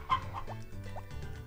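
A chicken in the Harvest Moon Back to Nature video game clucks when lifted: several short, repeated digital clucks in quick succession, clear and close with no talking.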